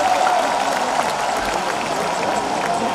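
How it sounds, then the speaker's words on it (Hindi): A crowd at a Hindu New Year gathering in Udaipur claps continuously, a dense steady wash of many hands with a faint voice underneath, loud and sustained throughout. "खुद ताली बजा लो अपने हाथों से।"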